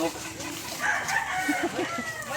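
Chickens and a rooster in a backyard coop cluck and crow in several short calls over a steady background, fairly close and moderately loud, with no one talking.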